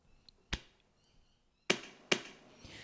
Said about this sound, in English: So I'm going to record a kick sound by slapping my chest.